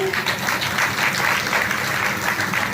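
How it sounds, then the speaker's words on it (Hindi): An audience at a Hindu religious katha gathering claps together in a loud, continuous patter of many hands, with faint voices mixed underneath throughout the short stretch. "मैं ऐसे आयोजक परिवार को आप पूरे लोगों की तरफ से एक बार जोरदार तालियों से चाहूंगी"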